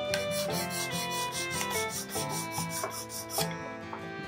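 A pocketknife blade is stroked across a whetstone in quick, even back-and-forth rubs, a close, gritty scraping rhythm repeating about three times a second with no speech.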